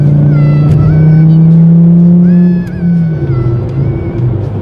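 A Volkswagen car drives along, heard from inside the cabin as a loud, steady engine drone that eases off and drops in pitch near the middle, with road rumble and faint whine throughout.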